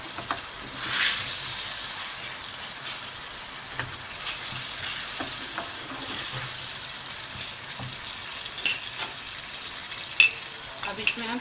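Sliced okra (bhindi) fries in a pan while a spoon stirs it, giving a steady soft sizzle with scattered light scraping taps and a few sharper clinks, close and alone without talk.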